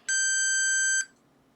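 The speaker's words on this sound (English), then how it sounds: "turn the control on. The buzzer sounds." A Maxitronix 20-in-1 ferromagnetic substance detector kit's buzzer sounds one steady, shrill electronic tone for about a second, then cuts off, leaving quiet room hiss.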